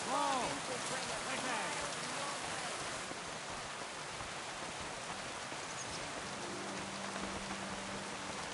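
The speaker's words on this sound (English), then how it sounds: "don't mind the rain" Steady rain falls in Kingdom Come Deliverance 2, a continuous soft hiss of drops on surfaces, with a brief faint voice near the start and a low tone later.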